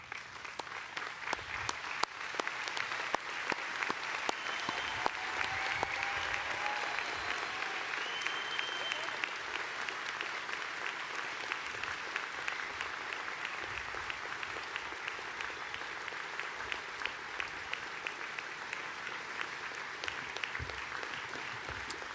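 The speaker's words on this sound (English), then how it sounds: "stand in our places and give our graduates a hearty round of applause" Families and supporters standing to applaud graduates at a university arts, social sciences and humanities graduation ceremony, a long, even roar of many hands clapping in a large hall, sustained throughout with no speech.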